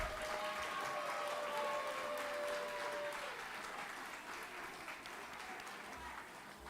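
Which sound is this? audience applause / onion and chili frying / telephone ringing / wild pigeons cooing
audience applause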